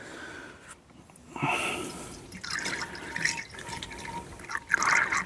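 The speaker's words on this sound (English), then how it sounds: "I'm just going to pour a load in, then top it with water." Coolant glugs and splashes steadily as it is poured into the cooling system of a Volvo 740, close up, with gurgling bursts rising toward the end.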